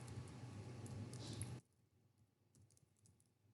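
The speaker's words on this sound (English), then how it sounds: "So I am going to type the username here and the password as well." Typing on a computer keyboard to enter a username and password, a brief burst of quick close keystrokes that stops abruptly, leaving faint scattered clicks.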